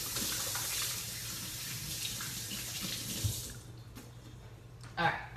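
A kitchen faucet runs steadily while hands are washed under it, a broad close rushing stream that stops near the end, followed by a few soft clatters.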